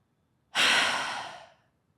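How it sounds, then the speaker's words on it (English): A single deep breath drawn in during a guided breathing exercise, a clear, close airy inhale lasting about a second and fading out gradually, alone without any talk. "Let's take a couple breaths here. Deep breath in."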